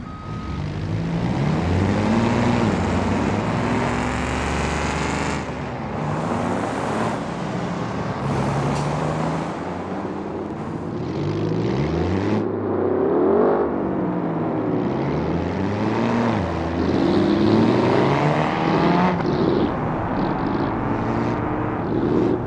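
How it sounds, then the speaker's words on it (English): Busy road traffic of cars running without mufflers, with loud, rough engine roars from vehicles passing close one after another and a continuous din throughout, no talk. "let's see how noisy our traffic would be if there were no mufflers in the car."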